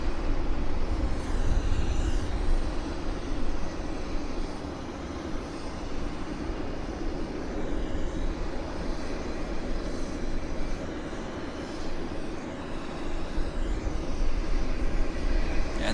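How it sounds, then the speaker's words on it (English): A WestJet Boeing 737 MAX bound for Winnipeg departs Vancouver Airport, its engines a steady, broad jet roar heard from an airport observation deck, holding at a fairly even loudness for the whole stretch without voices. "It's heading to Winnipeg, this aircraft, it's a MAX, is the Westjet"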